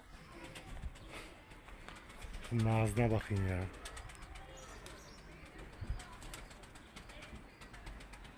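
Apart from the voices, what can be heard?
pigeon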